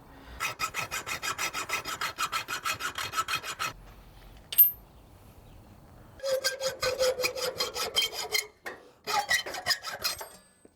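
Someone cuts the bottom parts off aftermarket seat mounts with fast back-and-forth sawing strokes in rhythmic bursts. Short pauses and a single sharp clank break up the strokes.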